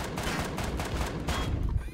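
Shotgun fire in the multiplayer game Empyrion: Galactic Survival, a quick run of loud, close blasts with noisy bursts packed tightly together.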